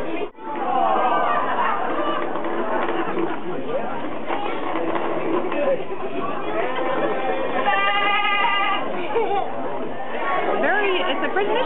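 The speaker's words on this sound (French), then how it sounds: "They sound like real sheep." Sheep bleat amid a crowd's chatter in a shopping mall, the wavering calls rising above overlapping voices nearby.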